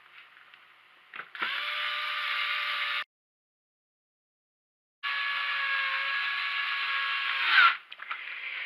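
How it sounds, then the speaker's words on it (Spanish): A power screwdriver driving the four black screws into the top cover of a PS3 Slim console, two steady whirring bursts of a few seconds each separated by a short silence, close and loud. "Y ya acabaremos de colocar los 4 últimos tornillos de lo que es la tapa superior, que son de color negro de cabeza de toro."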